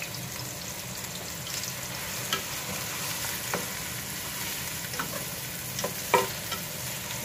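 Chicken necks frying in a pan until brown, a steady close sizzle with faint crackles running throughout, one sharper spatter pop near the end, no voices.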